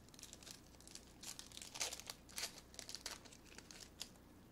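Crinkly tearing and crumpling of NBA Hoops trading card pack foil as packs are ripped open, a run of quiet, close rustling bursts with sharper rips in the middle, no talking.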